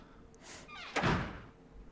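A wooden door is pushed open into a room, a soft rising creak followed by a dull thump, close and alone in a quiet space.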